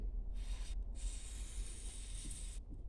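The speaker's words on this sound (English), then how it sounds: "we can spray some extra oil in there" Short bursts of aerosol spray hiss as oil is sprayed into the valve sockets of a Kriesler 11-20 radio during restoration, two close spray bursts separated by brief pauses, quiet and without talk.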